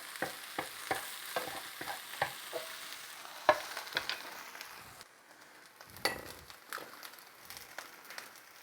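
Eggs frying in a pan on an outdoor backyard cook, a close crackling sizzle broken by a series of quick utensil scrapes and taps, alone without any voices.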